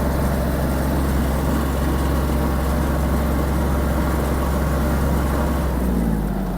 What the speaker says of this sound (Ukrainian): перевіримо максимум розігнались до максимальної швидкості. Трактор приємний на ходу.